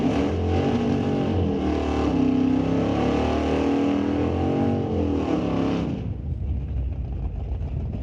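A drag racing car screams down the strip at Mission Raceway Park, its loud, close engine holding a sustained high roar with shifting pitch before cutting off sharply and fading into a distant rumble.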